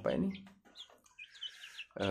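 In a chicken coop, a young Plaker and Bangkok Kelawu crossbred chicken clucks and cheeps close by in short, faint bursts, with a voice speaking at the start and end.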